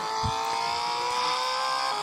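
A video game car engine drones in a steady, loud, sustained hum with a brief low thump near the start, no talking over it.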